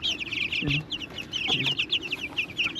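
Backyard chickens clucking and chattering close by, a busy overlapping flock of short high clucks with a few lower calls, continuous throughout.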